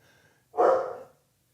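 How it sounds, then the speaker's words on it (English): A dog gives a single short, breathy bark or snort up close, loud and alone against a quiet room. "Yeah, this is my dogs."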